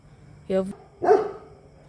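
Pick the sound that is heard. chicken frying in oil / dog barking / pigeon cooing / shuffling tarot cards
dog barking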